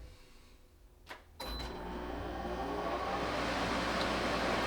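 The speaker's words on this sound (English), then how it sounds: "Compressor's on." After a short quiet moment, an 8,000 BTU air conditioner running from a Grecell H2400 power station kicks on with a sudden thump. Its compressor and fan then build into a steady broadband hum that grows slightly louder.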